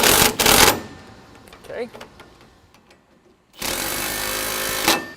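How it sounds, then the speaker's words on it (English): A ratchet or impact tool tightens the sway bar end links and rod end on a 1955-57 Chevy, with two loud rattling bursts at the start and near the end; a voice speaks briefly in between. "I'm going to go ahead now and tighten up our end links and our rod end"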